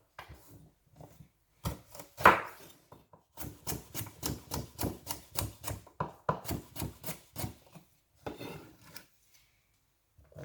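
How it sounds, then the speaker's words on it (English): A knife dicing carrot into small pieces on a board for Jamaican homemade carrot juice, fast rhythmic chopping in bursts with short pauses, close and dry, without talk. "So you just make sure you cut up a carrot."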